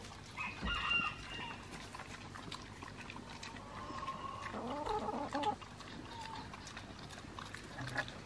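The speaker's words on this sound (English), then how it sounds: "You trying to share with the chickens?" Free-range chickens cluck and call amid a busy farmyard garden, with a short crowing phrase midway and scattered grunting and rustling in the background.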